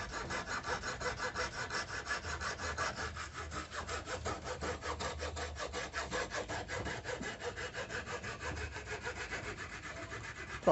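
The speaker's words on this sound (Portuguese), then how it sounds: "com um jeitinho você consegue fazer o corte na madeira sem problema algum" A multifunction hand saw cuts through wood in quick, even back-and-forth strokes, a steady rasping rhythm close by and fairly loud for about eleven seconds, with no voices.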